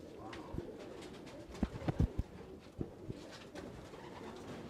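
Pigeons coo softly around a nest holding young chicks, with scattered low throaty calls and a few brief rustles and taps, faint and close in a quiet space.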